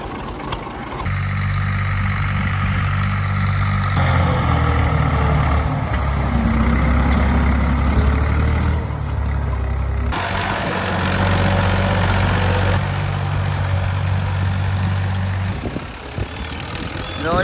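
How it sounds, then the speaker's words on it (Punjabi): A tractor pulling a plough across a field drones steadily at close range, its engine note shifting slightly as it works, with some talk over it. "ਹਲ ਪੈ ਗਿਆ ਤੇ ਟਰੈਕਟਰ ਤਿਆਰ"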